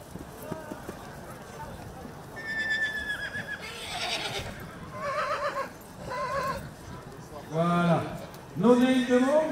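A filly turned loose in the ring at a French horse auction gives several loud, shrill whinnies that grow stronger toward the end, with hoof clatter and an auctioneer talking over the sales ring.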